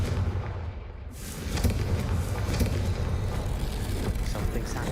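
A Confringo spell blast in Hogwarts Legacy that hits about a second in and becomes a loud, sustained, rumbling roar of fire and debris lasting several seconds.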